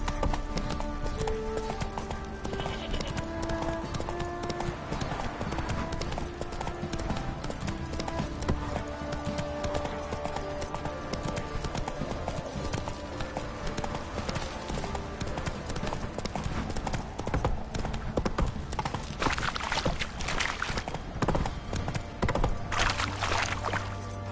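Horse hooves clip-clop steadily while riding in The Witcher 3 video game, a continuous rhythmic trot under a dense game soundscape of ambient music and effects.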